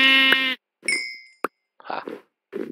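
Sheep in a survival video game give a long, loud bleat, followed by a shorter bleat and a couple of sharp clicks and knocks. Brief silent gaps fall between the sounds.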